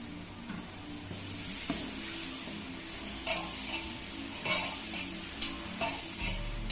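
Tomatoes sautéed for sambar in a hotel kitchen, a continuous sizzle under repeated scraping stirs and occasional clanks of a spoon against the pan, close and moderately loud.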